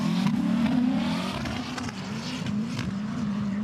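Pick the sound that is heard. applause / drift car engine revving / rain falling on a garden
drift car engine revving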